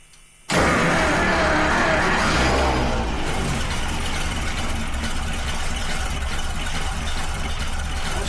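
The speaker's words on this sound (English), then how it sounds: "Well, doesn't seem like it wants to rev up." A 100-year-old car engine, restored after sitting parked 55 years, starts up with a sudden loud roar and then holds a steady, rough drone that doesn't climb into a rev, heard close with no talk.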